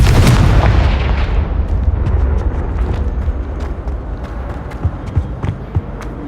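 A Confringo fire spell cast in the video game Hogwarts Legacy sets off a loud, booming explosion that rolls and slowly decays, followed by scattered faint crackles and small thuds.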